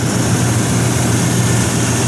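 A truck engine with a repaired exhaust manifold leak roars steadily at high revs, a constant loud droning rumble with a low throb underneath.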